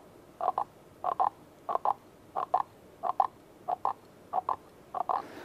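Rubbing the bottom of a coffee cup produces a croaking imitation of a frog, a steady run of paired squeaky croaks repeated about every half second, clear and alone.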